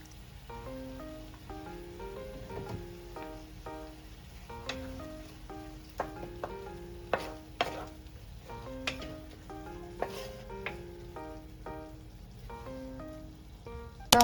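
Corned beef cooking in a pan gives a faint, soft sizzle under quiet background music, with occasional light clicks of stirring.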